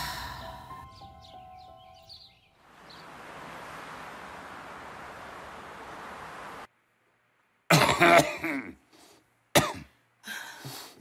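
A man clears his throat in a domestic drama scene, a few short harsh rasping bursts near the end after a stretch of faint room hiss and murmur.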